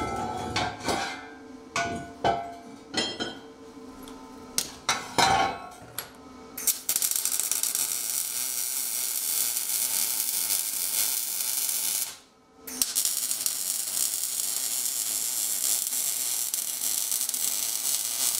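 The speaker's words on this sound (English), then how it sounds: "I can move on to the actual welding and get everything welded together." Steel gussets are tack-welded onto a head removal post for a Bridgeport mill, starting with clanks and knocks, then a long, loud, steady welding arc buzz that drops out briefly before resuming.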